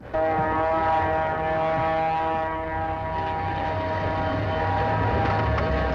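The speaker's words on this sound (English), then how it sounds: "making diesel air horns sound less like this" A loud, harsh diesel locomotive air horn blares continuously with a dense, dissonant tone, holding steady for several seconds.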